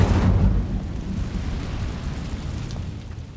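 Incendio fire spell cast in the Hogwarts Legacy video game, a burst of fiery whoosh that swells at once and then slowly fades into a rumbling tail.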